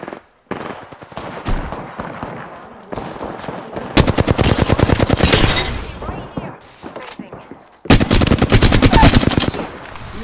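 Heavy automatic gunfire in Apex Legends rattles in long, dense bursts separated by brief gaps, loud and close, with a voice speaking in between.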